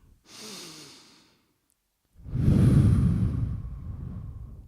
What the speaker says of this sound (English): Can everyone close their eyes and take a deep breath?